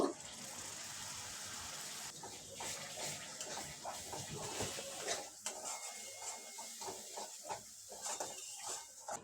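A small splash of water poured into a pan of masala paste made with cumin, coriander and red chilli powder for Dhaba-style masala paneer, a running, gushing pour with faint clatter, close and fairly quiet.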